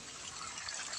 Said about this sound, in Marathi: इथं तळ्याचं मोटर चालू आहे